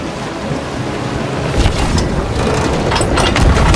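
A sailing ship moves across the open sea in Sea of Thieves, with a steady loud wash of waves and wind rushing against the hull, swelling slightly louder in the second half.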